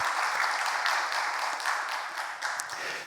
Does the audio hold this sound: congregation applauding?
yes